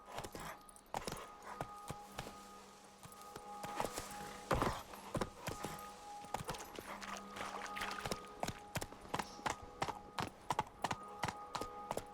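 Roach, a horse in The Witcher 3, clip-clops along at a steady walk, hoofbeats sharp and close in a regular rhythm over a faint ambient hum, with one brief louder thud midway.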